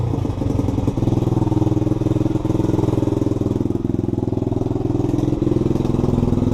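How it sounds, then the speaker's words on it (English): A pit bike motorcycle engine runs loud and close with a rapid, steady, throaty putter and slight revving, continuous throughout with no talk. "but I'll start the bike for you guys."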